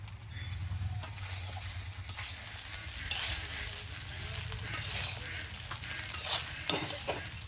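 Vegetables sizzle and are stirred in a hot pan for fried rice, with a continuous close frying hiss broken by scraping and clinking strokes of the utensil at an uneven pace.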